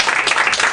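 Brief burst of audience applause at a poetry evening, a loud, dense patter of clapping lasting under a second.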